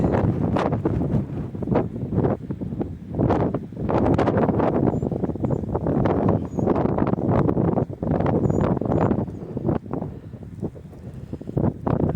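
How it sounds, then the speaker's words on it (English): Strong wind buffets the microphone outdoors at Lochranza, Isle of Arran, in loud, irregular gusts, roaring bursts coming and going over a constant blustery rush. "It's a tad windy"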